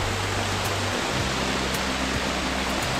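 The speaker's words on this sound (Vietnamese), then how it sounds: "Nghe tiếng nước chảy giống như thác đó cả nhà." Water rushing through a large irrigation canal, pouring down like a waterfall, makes a steady, loud broadband roar that holds constant throughout with a low rumble underneath.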